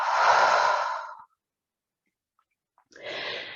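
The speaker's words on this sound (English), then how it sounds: "Deep breath here." Deep breathing during a stretching exercise: a long, close breath lasting over a second, a pause of silence, then another breath starting, with no talk.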